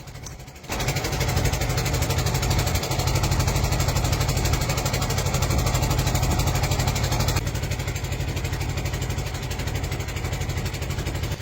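A fishing trawler's engine runs on a river at night, a loud, steady, throbbing drone with a strong low rumble and mechanical buzz that kicks in after a brief quieter moment and continues unbroken, close and alone.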